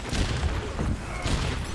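Gunfire in the Overwatch video game, a quick flurry of muffled shots and impacts, fairly faint and brief under game noise.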